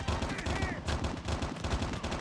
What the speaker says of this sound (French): Clairement, ça tire.